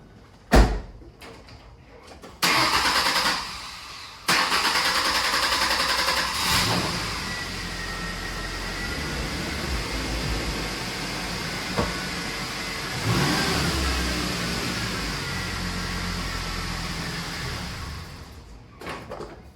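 A 2006 Mazda B2300 pickup engine cranks for a while after a fuel filter change, then catches and settles into a steady running idle, loud and close, with door sounds near the start.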